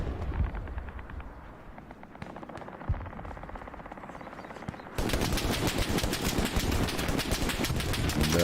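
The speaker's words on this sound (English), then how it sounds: "Nasty, got the MG going." Machine gun fire in the World War II shooter game Hell Let Loose, sounding as rapid, sustained bursts of gunfire up close that get louder and denser partway through, with more distant shots layered underneath.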